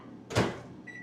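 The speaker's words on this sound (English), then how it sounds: "I was supposed to microwave the butter" A microwave oven heating butter gives a short whoosh and hum, then a faint electronic tone near the end.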